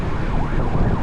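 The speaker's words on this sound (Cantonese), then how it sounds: "可能係右邊有救護車衝緊出嚟" An ambulance siren wails through loud street traffic, its rising and falling tone sounding over a heavy rumble of engines.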